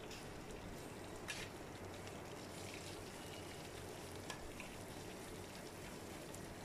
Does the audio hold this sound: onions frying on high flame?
yes